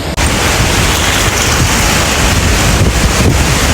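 Strong wind blasting during heavy Kerala rain, a loud, steady roaring rush buffeting the microphone throughout with brief gust surges, no voices heard.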